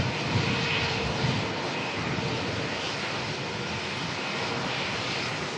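Jetstar Airbus A321neo jet engines roar steadily at a Melbourne airport, a loud, broad, continuous rushing drone with no pause across the whole stretch.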